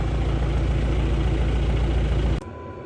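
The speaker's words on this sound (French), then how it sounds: "Là c'est bon, ça souffle de l'air chaud, le chauffage il a démarré." A Chinese diesel air heater runs inside a 4x4, giving a loud, steady low hum and broadband blowing roar that cuts off abruptly near the end, leaving a faint residual whine.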